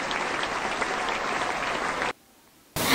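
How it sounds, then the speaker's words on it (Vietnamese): A street performance crowd in Hai Phong applauds a child singer, with dense, continuous clapping that cuts off abruptly into near-silence before resuming briefly. "hãy dành những tràng vỗ tay cho ca sĩ Phương Linh của chúng ta nhé"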